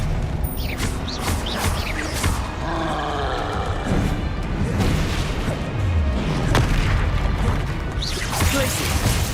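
An Expelliarmus spell cast in the video game Hogwarts Legacy, a dense, loud run of booming magical blasts and crashing impacts with a roaring rush, continuous throughout with a brief voice over the top.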